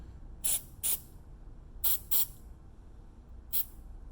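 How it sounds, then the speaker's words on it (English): Five short hissing spray bursts of glue accelerator from a nozzle, quick pairs then a single one, crisp and close against a quiet background. "with the accelerator, watch where you're actually spraying"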